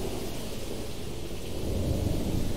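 Steady heavy rain with rumbling thunder in the video game Jurassic Park Operation Genesis, a continuous broadband wash with deep low rolls swelling toward the end, no voices.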